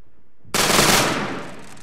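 A rifle volley fired on command during close order drill by a 29th Infantry Division squad: one sharp, loud simultaneous crack after a brief quiet, its broadband roar decaying over about a second.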